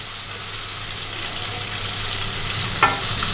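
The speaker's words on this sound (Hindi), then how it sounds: "ये मैंने एक बड़ी प्याज इसको फाइनली कट कर लिया है, वो हमने ऐड करनी है और इसको हमने गोल्डन ब्राउन होने तक फ्राई करना है" Finely chopped large onion sizzles and fries in hot oil, a steady dense crackle close up, with a faint stir or scrape near the end and no voices.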